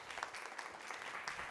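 A conference audience claps in a steady, dense patter of many hands, fairly faint and distant, with no voices over it.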